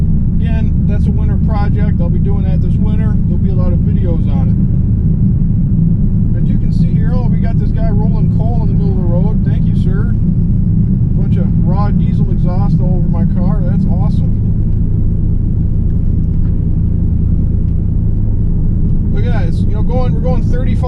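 Low, steady engine rumble of a 2001 Pontiac Trans Am with 101,000 miles cruising slowly at about 35 mph, with someone talking over it throughout.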